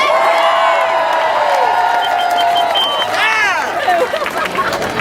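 A San Francisco protest crowd against the Keystone XL pipeline cheers loudly, with whoops and shouts rising over sustained applause and babble, swelling near the end.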